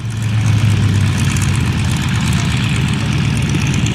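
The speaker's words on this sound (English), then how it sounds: "Two-place tandem seat training airplane." A de Havilland Chipmunk two-seat tandem training airplane at an airshow drones with a loud, steady piston engine and propeller rumble, continuous and close, with no voices.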